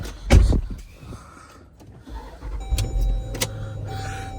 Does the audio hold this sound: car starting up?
yes